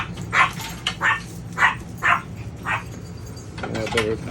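Several sharp dog barks sound in a steady series, about one every half second, followed by yips amid background noise.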